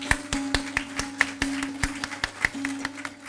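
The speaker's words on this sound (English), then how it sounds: "A round of applause for them." Sparse clapping from a school audience at a sports jersey unveiling, a few pairs of hands striking in an uneven rhythm over a steady low hum, the claps crisp and fairly close.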